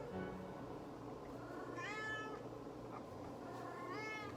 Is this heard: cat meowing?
yes